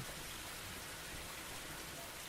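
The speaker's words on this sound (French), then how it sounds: "La pluie battante, l'isolant dans ses souvenirs." Heavy pouring rain hisses as a dense, steady wash of noise, faint and even, with no other sounds.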